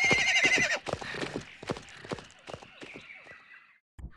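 Horse in the Futurama Xbox game gives a loud whinny, then a rapid run of clip-clop hoofbeats that fades, followed by a short thump.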